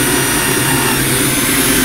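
A power sander working on a box-elder wood bowl, a loud, steady, dense whirring hiss with a low motor hum, unbroken for under two seconds with no talk.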